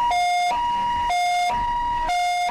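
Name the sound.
ambulance siren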